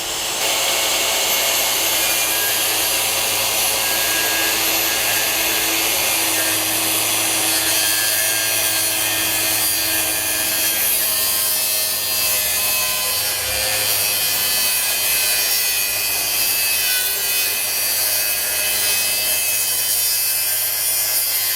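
A Makita dustless circular saw cutting wood at 7,000 RPM, a continuous loud, rough grinding whir that holds steady for the whole stretch, close by.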